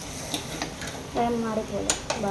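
Meal maker soya chunks fry in a pan while being stirred, giving short scraping and clinking strokes against the pan over a soft background sizzle, near and moderately loud.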